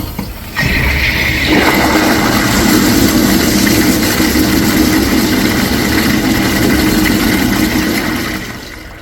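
A second-generation Kohler Derry blowout urinal flushes with a loud, forceful rushing of water that holds steady for several seconds before tapering off at the end.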